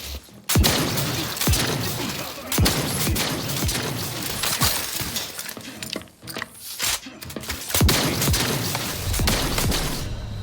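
Sniper rifle fire in The Outer Worlds 2, sharp loud cracks at irregular intervals over a dense, clattering layer of game noise and mechanical rattling, with no voices.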